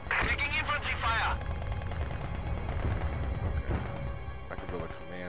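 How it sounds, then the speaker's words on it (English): Infantry gunfire in Company of Heroes 2 with the Spearhead mod: rattling rifle and machine-gun bursts crackle steadily through the battle, and a unit voice line speaks over the opening moment. "Taking infantry fire!"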